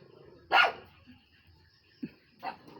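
A dog at home gives a single sharp bark, then a short low yip and another softer bark, spaced out against a quiet background.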